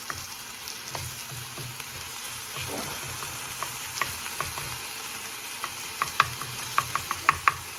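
Onion frying for Spanish rice sizzles steadily in a pan, with stirring scrapes and sharper clicks of a utensil growing more frequent toward the end; no talking.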